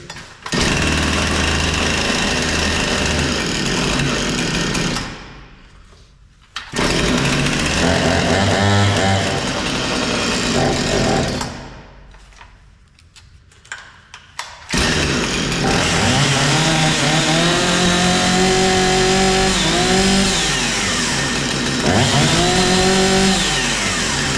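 A Husqvarna 460 chainsaw engine roars loud and close, running in long revving stretches broken by two pauses where it drops off, then starts again with rising and falling throttle pitch.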